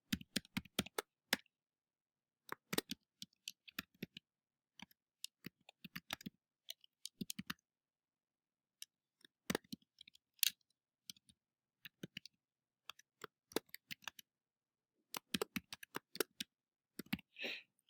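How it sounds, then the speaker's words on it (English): Quiet clicks of typing on a computer keyboard while entering a headline in page layout software, coming in bursts of rapid taps separated by short pauses, close and faint with no talking. "And now I'm going to type"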